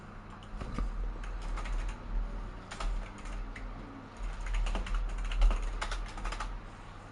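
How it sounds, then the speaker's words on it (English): Typing on a computer keyboard: steady, irregular clicking keystrokes for several seconds with occasional heavier taps, close and moderately loud with no talking. "What are you typing?"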